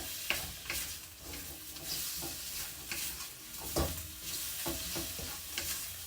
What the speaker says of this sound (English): we will cook the beef at the same time as we're frying our egg.